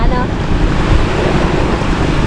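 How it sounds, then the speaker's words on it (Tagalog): Rough sea waves surging at the shore of an island in Tinambac, Camarines Sur, a loud, close, churning roar mixed with heavy wind buffeting the microphone, continuous and unbroken across the short stretch. "medyo malakas ang alon ngayon"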